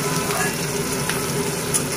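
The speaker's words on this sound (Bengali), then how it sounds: "এটাকে ভালো করে ভেজে নিয়ে" Taro greens and a few green chillies fry in a pan with a steady, even sizzle and faint crackle, close and continuous throughout.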